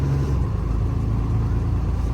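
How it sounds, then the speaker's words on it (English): A non-CDL 28ft box truck drives on a drizzly day, a loud steady low engine rumble and road drone heard from the cab with no talking. "Just move the box truck."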